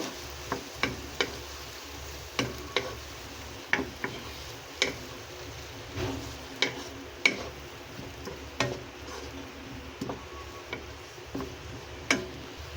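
Pepper is stirred into frying ulam in a pan, with irregular light spoon ticks and scrapes against the pan over a faint continuous sizzle, close and fairly quiet, with no voices.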